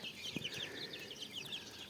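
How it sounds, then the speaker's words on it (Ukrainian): A grey rooster and grey hen clucking softly and continuously at a farmyard, with a steady murmur of calls at moderate distance and no talking. "Оце сіренький півник, а оце сіренька курочка."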